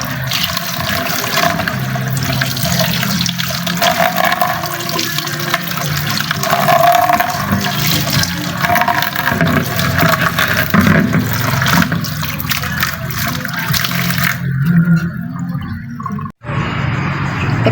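Aloe vera leaves rinsed under a running tap to wash off soil, a steady rush of splashing water filling the clip at close range, briefly cut off near the end.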